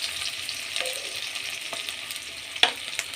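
Onions for a bitter gourd gravy sizzle steadily in hot oil in a pan, with a continuous broad hiss, a few stirring scrapes, and a sharp clink near the end.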